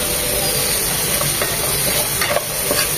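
Chopped carrots fry in hot oil in a pan, giving a steady close sizzle with faint scraping and stirring sounds on top and no talking.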